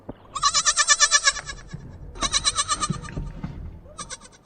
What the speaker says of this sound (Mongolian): Адтай цэнхэр ишиг ахиад майлж гин.